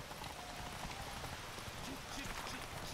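Horse hooves clip-clopping at a steady gallop in The Witcher 3, heard faintly beneath a busy, noisy game mix.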